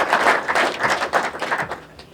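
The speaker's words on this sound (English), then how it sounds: "Let's give him a round of applause." A crowd applauds Doug Clark, the flagman at Knoxville Raceway, with steady, fairly close clapping that swells and dips in waves for about two seconds.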